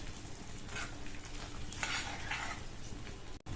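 Mushroom thokku gravy gets stirred in a pan, a soft scraping and sizzling texture with a few louder spoon strokes, close and alone without talk.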